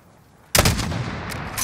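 A single sniper rifle shot in Call of Duty: Modern Warfare cracks out suddenly after near silence, loud and close, then rolls off in a long echoing boom.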